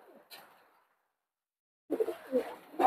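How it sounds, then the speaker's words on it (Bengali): Crossbred golden pigeons coo close by, a short soft call near the start followed by a longer run of low, throaty cooing after a silent pause. "এটা খুব সুন্দর একটা কবুতর"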